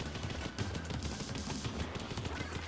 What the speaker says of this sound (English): I can fire this weapon normally